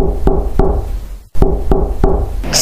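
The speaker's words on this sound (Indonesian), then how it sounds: "Samar suara ketukan pintu membangunkanku dari tidur." Knocks on a door set against a steady background, a few evenly spaced raps, a pause, then another run of raps at moderate loudness with no voices.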